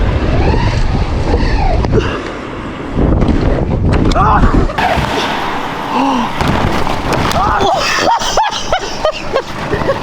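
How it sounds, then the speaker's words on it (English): Strong wind buffets the microphone with a constant loud roar during minibike stunts, while people talk and shout over it throughout. "It's so windy."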